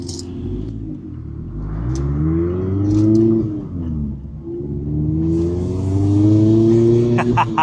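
A car engine revs hard through a new, lighter aftermarket exhaust, its deep throaty drone climbing and falling in pitch over several strong pulls, loud and close, with a brief voice underneath.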